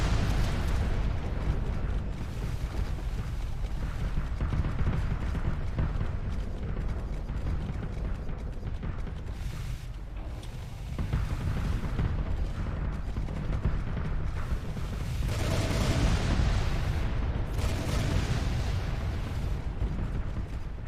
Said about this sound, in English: That's so much missile spam